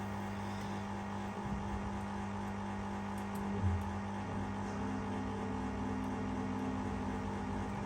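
Hoover 530 washing machine drum spinning up to about 100 RPM, a steady low motor hum with faint tonal whine and occasional light clunks, quiet and continuous with no talking.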